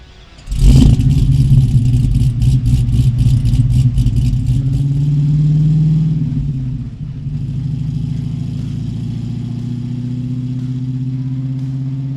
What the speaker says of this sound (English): Taking this Camaro for a cruise